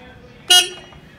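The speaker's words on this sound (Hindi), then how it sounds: "और ट्रैक्टर स्टार्ट करते हैं तो इसका हॉर्न दिखाता हूँ आपको" A single short horn blast from a Mahindra 275 DI XP Plus tractor, loud and close, lasting under a second against a low engine hum.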